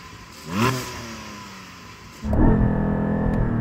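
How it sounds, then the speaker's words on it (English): A Porsche Cayman GT4 with a naturally aspirated 4-litre flat-six gives a short sharp throttle blip, settles briefly, then climbs into a sustained loud rev against a soft limiter, heard close with no talk. "So I'm going to start off with this Cayman GT4 4-litre naturally aspirated flat-six."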